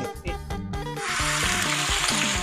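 Oil sizzles and crackles loudly in a hot wok, a dense hiss that swells after a second, with metallic clanks and scraping.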